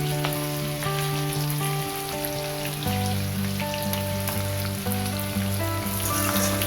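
Sliced onions sizzle and fry in a pan for a white vegetable pulao, alongside green chillies: a steady, dense crackle that runs the whole time at close range, with a background of musical tones and no talk.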